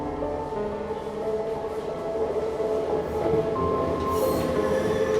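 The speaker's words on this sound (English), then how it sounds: "The train screeched through the tunnel," A subway train runs through a tunnel in an animated horror story, a loud continuous rumble with steady metallic wheel squeal and tonal screeching rising slightly toward the end, with no speech.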